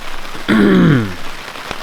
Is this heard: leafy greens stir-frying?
no